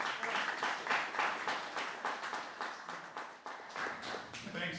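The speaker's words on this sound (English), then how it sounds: "join me in giving Mike a nice one-leg applause" Audience applause for Mike, a speaker about to give a talk: a steady, moderately quiet patter of many hands lasting the whole stretch, with a slight lull near the end.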